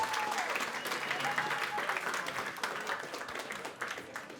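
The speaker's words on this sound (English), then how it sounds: "A round of applause for them," Audience applause greets two guests, Stephen Young and Andy, walking onto the stage at a live show, a dense, steady wash of clapping from a nearby crowd that holds for several seconds.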